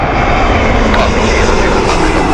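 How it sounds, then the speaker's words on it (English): Jet engine roar from a one-year-old Airbus A320neo airliner at Heathrow Airport, loud, close and steady throughout, a broad continuous rumble with a faint voice mixed in. "So this is the 1-year-old Airbus A320 Airbus A320 Neo, sorry, not A321."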